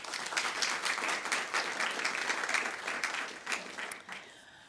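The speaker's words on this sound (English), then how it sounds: "Please give our guests a warm round of applause." Audience applause for guests at a public talk on predicting and battling pandemics, a steady wash of many hands clapping at moderate volume that thins slightly toward the end.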